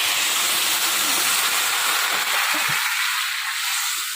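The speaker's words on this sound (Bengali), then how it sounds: "এবার আমি জল দিয়ে দেবো।" Water is poured into a hot village-kitchen pan of Bengali bam fish curry, and a loud, close, steady hiss of sizzling steam fills the moment, easing only slightly toward the end, with no talking.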